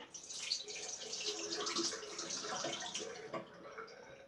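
Cold water runs steadily from a bathroom tap, a continuous broadband rush with small splashy fluctuations that carries on for several seconds at moderate level, with no talk over it.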